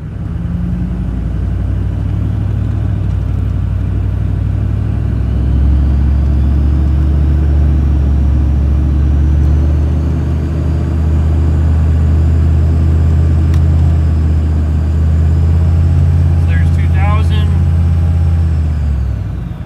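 A 6.5 diesel truck fitted with an S300 turbo accelerates on a test drive, its loud, close engine drone and rumble rising steadily with a faint whine above it, while someone talks over the engine.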